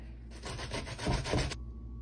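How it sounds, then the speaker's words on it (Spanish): Green plantains are grated on the fine side of a grater, giving a close, steady rasping scrape of about a second with a couple of heavier strokes near the end, with no talk. "Por la parte fina vamos a rallar."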